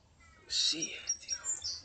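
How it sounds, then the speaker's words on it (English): Birds chirp and tweet outdoors in short, bright bursts that come and go over about two seconds, moderately near, above a quiet background. "Hear the birds."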